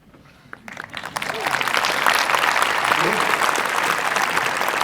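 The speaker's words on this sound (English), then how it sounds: "the reason they're clapping is they know how true what I just said was" Audience applause at a business talk swells from quiet into loud, sustained clapping by a large crowd that continues steadily to the end.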